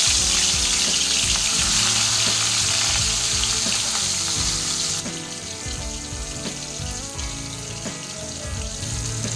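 Fish fries in hot oil in a pan, a loud, dense, crackling sizzle close by with occasional stirring clatter, easing slightly partway through.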